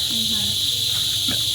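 A steady, high-pitched cricket drone fills the background continuously on Siquijor in the Philippines while a voice speaks briefly nearby.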